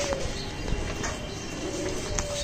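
Pigeons coo softly at a loft of flying pigeons in Bangladesh, low and faint with some chirps and background clatter.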